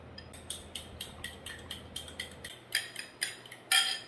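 Eggs whisked with salt and pepper for an omelette give quick, even clinks of a utensil against a bowl, close and light, picking up to sharper taps near the end.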